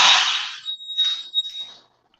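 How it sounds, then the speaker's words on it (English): A smoke detector going off, its high piercing tone loud at first with a steady whine, then fading into broken, uneven bursts before stopping near the end. "Is there a smoke detector going off there?"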